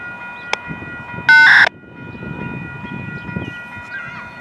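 A CN freight train rumbles past a level crossing, with steady tonal warning signals ringing overhead and a short, loud horn-like blast early on.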